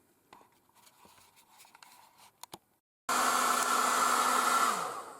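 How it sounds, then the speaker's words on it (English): A hair dryer held about two feet above a watercolour painting bursts on loudly after near-silence and blows a steady broadband rush of air that fades slightly at the end. "I'm now helping it along by drying it with a hairdryer"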